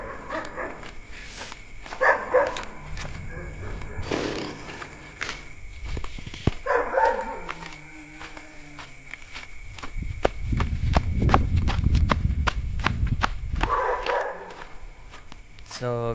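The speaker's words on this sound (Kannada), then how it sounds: "ನಾಯಿ ಬೊಗಳ್ತಿದೆ ಗೈಸ್." Dog barking at around 4 a.m. on an early-morning walk, several sharp barks scattered across the stretch at moderate distance, mixed with footsteps and a person talking.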